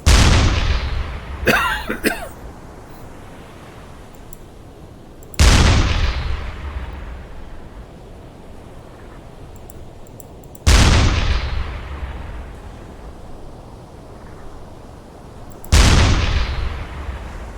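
The 88 deck gun of a U-boat in a video game fires four loud, booming shots spaced about five seconds apart, each blast ringing out into a long decaying rumble over steady background noise.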